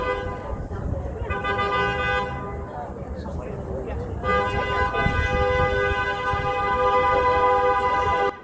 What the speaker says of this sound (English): What the heck is that honking about?